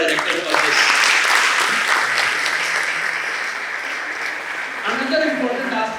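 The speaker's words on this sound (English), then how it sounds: "give a big round of applause to our Director for this" A large audience at an opening ceremony applauds loudly and steadily for several seconds, the clapping thinning slightly toward the end.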